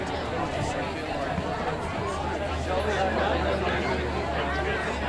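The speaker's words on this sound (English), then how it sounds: "Have a good crowd." Crowd at a Weldon Oval amateur Australian rules football match between Manly Warringah and St George, a steady distant murmur of chatter and general noise with no distinct cheers.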